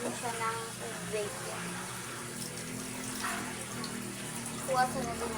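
Tap water running into a cooking pot for Lucky Me instant noodles, a steady broadband rush that continues throughout with a voice talking over it.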